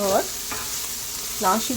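Finely chopped vegetables stir-fry for egg fried rice, giving a steady sizzle in the pan with a couple of short scraping stirs.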